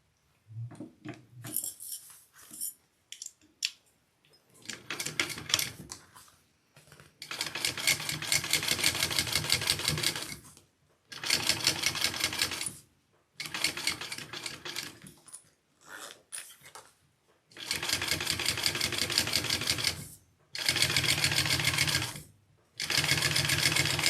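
Sewing machine top stitching a fabric convertible bag, running in several steady bursts of rapid mechanical stitching separated by short pauses, with handling clicks and rustles early on.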